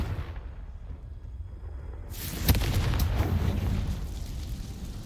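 A Confringo blasting spell bursts in Hogwarts Legacy, a sudden loud boom that opens into a sustained roaring, crackling rumble, standing alone without voices.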